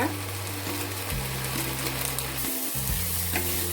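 Homemade black masala sizzling and frying steadily in hot oil for a chickpea curry, a continuous close crackle with stirring; the sizzle briefly cuts out and resumes, no talking.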